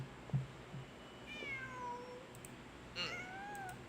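A cat in Genshin Impact lets out two drawn-out meows, each a rising then falling wail, heard close over quiet ambient background with a soft thump at the start.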